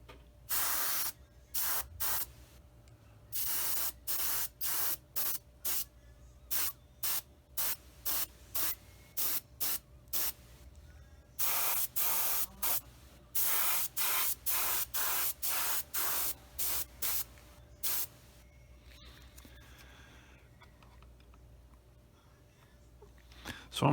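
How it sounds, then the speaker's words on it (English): An airbrush sprays paint onto small plastic parts of a 1/48 Tamiya F4F-4 model aircraft in many short, sharp hissing bursts, close and loud, with brief pauses between them and a quiet stretch near the end. "I've got all the smaller parts sprayed"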